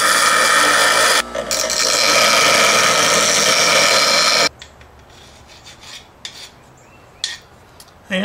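Metal parts clamped on all thread being rounded off with a loud, continuous abrasive grinding rasp for a few seconds, then scattered quieter scrapes and knocks.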